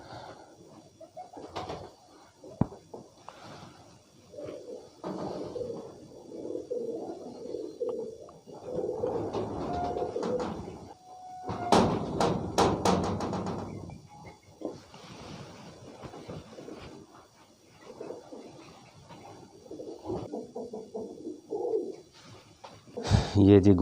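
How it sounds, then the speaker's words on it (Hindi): Pigeons in a hobbyist's kabootar-bazi loft, star-marked birds including a golden female, coo softly and repeatedly while someone talks over them nearly throughout. "ये देखें जी, एक ये कबूतर है।"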